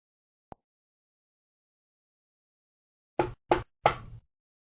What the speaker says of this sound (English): The wolf knocked on Grandmother's door.